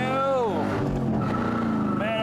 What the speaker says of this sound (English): The exhaust sounds phenomenal.